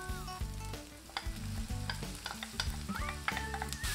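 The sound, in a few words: frying onion and minced meat in a deep pan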